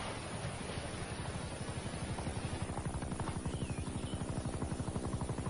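Rapid rhythmic thudding of helicopter rotor blades under a steady wash of noise, fairly faint and distant, pulsing evenly throughout.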